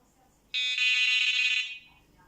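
New Direction Tackle S9 fishing bite alarm giving one loud, close, high-pitched electronic tone lasting about a second, then fading out.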